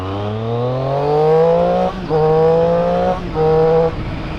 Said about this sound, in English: That exhaust!